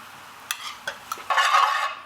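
Pre-cooked potatoes go into a pan of vegetable bhuna: a few sharp clinks of a utensil against the pan, then a brief burst of scraping and stirring, close and fairly loud, with no talk.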